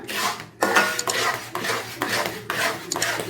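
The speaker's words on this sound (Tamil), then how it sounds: "கை விடாமல் இப்படி கிளறிக்கிட்டே இருந்தேன்" A spoon stirs a thickening ABC malt mixture in a pan with steady scraping strokes in a repeating rhythm of about two per second, close and fairly loud.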